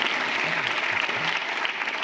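A conference audience applauds steadily throughout, a dense, even wash of clapping from a large crowd with no break and no voices standing out.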